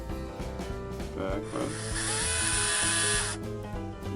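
A small LEGO Power Functions motor whirs for about two seconds with a high, buzzing electric hum, close and moderately loud, amid light plastic clicks and handling noise.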